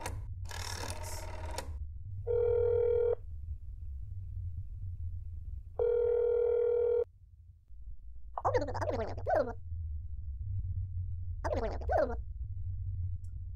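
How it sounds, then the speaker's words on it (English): Phone call in the horror game That's Not My Neighbor: a short burst of keypad beeps, then two long steady ringback tones and two bursts of a garbled voice on the line, all over a low constant hum. "Let's just make a quick phone call to make sure she's not already in there."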